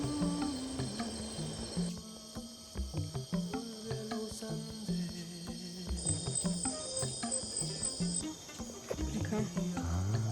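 Night insects in the Ecuador rainforest near Puerto Misahuallí, a dense chorus of steady crickets and shrill buzzing calls layered with pulsing trills, continuous and fairly distant with no talking.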